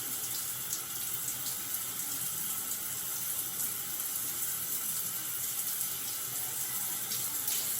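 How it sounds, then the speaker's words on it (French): Lukewarm water runs steadily from a tap while hair is wetted, a continuous close hiss and splash with no talking. "J'humidifie toujours mes cheveux avec de l'eau tiède"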